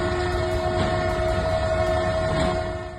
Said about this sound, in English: The train managed to slow down just in time, avoiding what could have been a disaster.